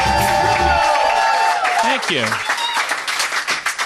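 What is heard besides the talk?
boisterous live podcast audience cheering and clapping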